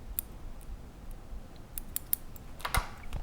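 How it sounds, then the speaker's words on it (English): A pair of scissors snips sections of feather wing for a strip-wing steelhead fly, giving several sharp, close cuts scattered irregularly over a quiet room background, with no one speaking. "This is where a good pair of scissors, or even a scalpel, if you have one sitting around, is very handy."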